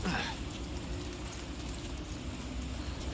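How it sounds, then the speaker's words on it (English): Rain falls steadily in Resident Evil 4 Remake, a dense, even hiss of drops on surfaces, continuous and moderately loud throughout. "Oh man, this rain is bullshit."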